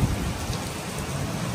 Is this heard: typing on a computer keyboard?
no